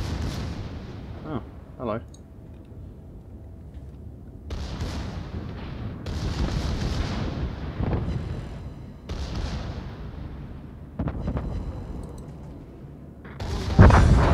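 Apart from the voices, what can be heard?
battleship IJN Mutsu main guns firing, from a video game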